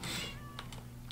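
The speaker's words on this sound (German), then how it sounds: "Oh, ich habe schon wieder so eine dreckige Katze draußen." A cat meows once in a Minecraft modpack game, a short in-game call over steady background sound, followed by fainter brief chirps.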